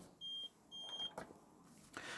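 Two short, high electronic warning beeps from a 2013 Sterling Eccles SE Quartz caravan fridge, fairly quiet and close, followed by soft clicks and rustling.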